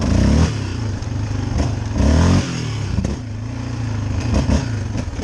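A 2022 Yamaha Raptor ATV engine revving hard during a wheelie, loud and close, with repeated throttle surges rising and falling over a continuous rough engine roar.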